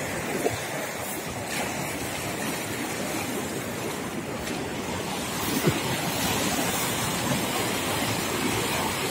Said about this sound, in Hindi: इतना तेज़ बहाव है कि इसमें किसी प्रकार से भी